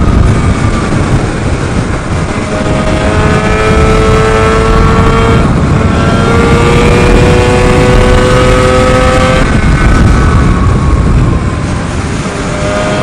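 A tuned Targa Twin scooter engine with a 5-speed gearbox drones steadily and loudly throughout, its pitch climbing and dropping with gear changes, mixed with rushing wind noise while riding.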